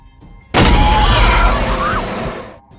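The Kepler base blows up in a film scene: a sudden loud blast erupts and then roars on with crashing, rumbling debris for about two seconds before fading out.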